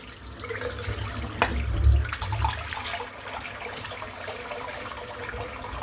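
A tap runs water in a steady, moderately loud stream, with a brief gush that swells and then eases back into a constant flow, no voices over it.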